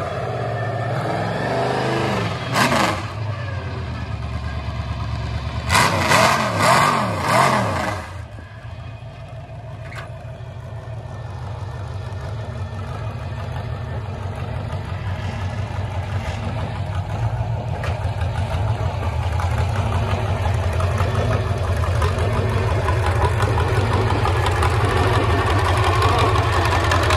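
A V8 engine swapped into a lawn mower runs steadily throughout, with a couple of sharp revving bursts early on before settling into a loud, continuous low idle rumble that slowly builds.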